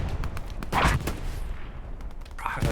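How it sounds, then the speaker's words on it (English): A tank round blasts in Hell Let Loose during a 49 vs 49 competitive match on the Utah map, a loud boom near the start amid ongoing gunfire and battle noise, with another burst toward the end. "That was a tank round."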